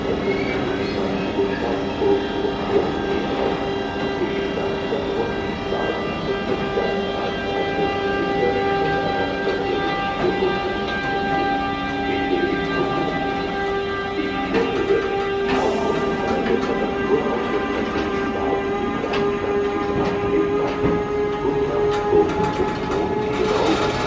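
Freight train in a train simulator game accelerating out of a station, a steady loud rolling drone with tonal hums and faint squeals, a voice speaking over it.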